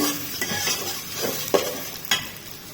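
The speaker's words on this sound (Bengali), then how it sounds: "এখন ভালো করে নেড়ে চেড়ে" Onions sizzle steadily in a pan while a utensil scrapes and stirs, with a few sharper clinks against the metal.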